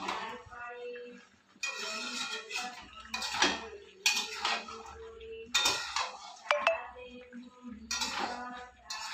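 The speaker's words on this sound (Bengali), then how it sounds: "ভালো করে কষিয়ে নিব আলুগুলো" Boiled potatoes are stirred in a pan with a metal spatula, making bursts of clanking and scraping separated by short pauses, with ringing metallic clinks and a faint background hum.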